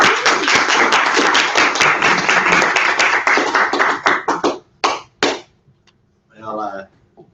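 Audience at a business presentation applauding to welcome a speaker, dense clapping that thins into scattered claps and stops, then a short burst of voice.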